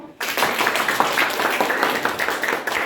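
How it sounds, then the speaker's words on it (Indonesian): Students in an Indonesian classroom burst into applause after a brief quiet start, a dense, steady patter of many hands that holds nearly the whole time with no talk over it. "Oke, tepuk tangan dong."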